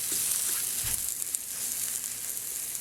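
Flour toasting in a hot pan over very high heat, a continuous bright sizzle with faint stirring scrapes, steady and close throughout.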